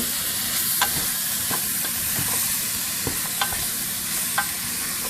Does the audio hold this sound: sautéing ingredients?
yes